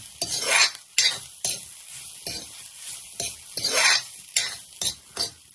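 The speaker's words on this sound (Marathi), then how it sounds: "जरा कांदो कोबरा सगळा लाल होईपर्यंत मस्तपैकी भाजून घ्यायचा" Onion and coconut roasting in a pan, stirred with a utensil in repeated scraping strokes over a soft sizzle, close and moderately loud, with no voices.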